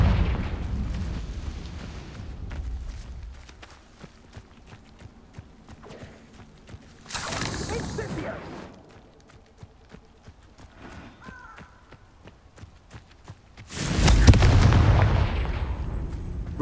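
Confringo blasting-spell explosions in the Hogwarts Legacy video game, with loud booming bursts around the middle and near the end and smaller impacts and clatter between them.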